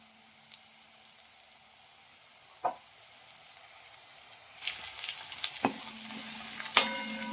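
Green chili paste is added to vegetables in a pan for a Bhogi festival dish. A soft sizzle builds in the second half, with occasional stirring scrapes and clinks nearby and no talking.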